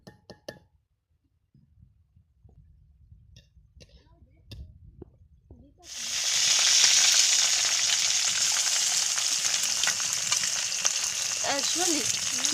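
Spices hit hot oil in a pan of frying food and set off a sudden loud sizzle that keeps crackling steadily. Before it, there are quiet knocks and soft voices in a dim kitchen.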